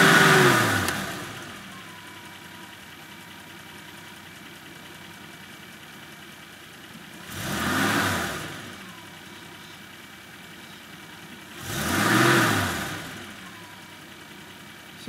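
A Holden 202 six-cylinder engine idles steadily, then revs up to about 3,000 rpm in two distinct bursts that swell and fall back, recorded close with no talking.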